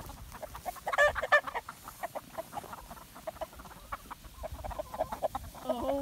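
Chickens cluck and squawk in short, scattered bursts, fairly close, with a busy barnyard chatter throughout.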